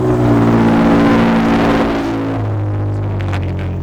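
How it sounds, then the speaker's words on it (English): A loud car with a bad exhaust system rumbles past close by, a harsh, steady engine drone that fades slightly as it moves away over about four seconds. "It's not even a motorcycle, it's just a bad exhaust system."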